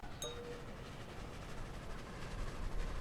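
A train rolls along its rails in the game Far Far West as a steady, fairly quiet rumble with faint rhythmic clatter and one brief high squeal near the start, with no voices.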